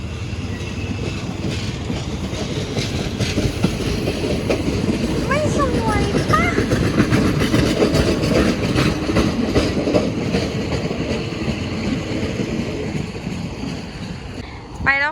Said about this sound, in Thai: ขบวนรถนะคะที่จะเข้าเทียบชาชลาที่สองนะคะ